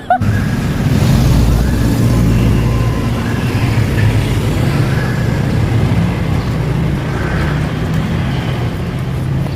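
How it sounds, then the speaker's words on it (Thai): Steady broadband roar of ocean surf at a beach in Pattaya, Thailand, continuous and fairly loud, with traffic noise from a nearby road blended into the wash of the waves. "ถึงทะเลแล้วนะคะเดินไปหน่อยนึงข้ามถนนก็ถึงทะเลแล้วค่ะ"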